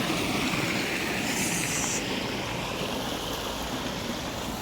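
Water flows steadily at a farm's water source, a dense, continuous rushing wash that holds even and close throughout, with no voices.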